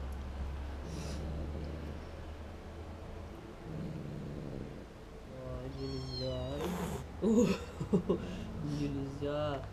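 An angry adult cat faces a small kitten and lets out harsh snorts and hisses, then strained, wailing growls toward the end, while someone talks over the confrontation.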